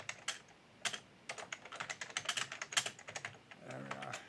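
Quick bursts of keystrokes on a computer keyboard during a remote pair programming session, close and clear, with uneven rhythm and brief pauses between runs.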